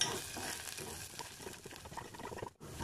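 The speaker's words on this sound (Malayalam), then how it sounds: "ജസ്റ്റ് ഒന്ന് ഫ്ലെയിം ഒന്ന് കുറച്ച് വെച്ച് ഒന്ന് അങ്ങ് ഇളക്കി കൊടുക്കുക" Spices and curry leaves are stirred in a hot pan over a lowered flame, giving a faint, crackling sizzle with soft scraping strokes, heard close and quiet with no voices.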